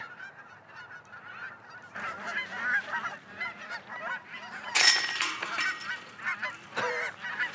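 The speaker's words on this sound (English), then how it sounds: "Gosh, how many geese are here? This is insane." Many geese honk in a loose, overlapping chorus, sparse at first and then growing louder and denser toward the end.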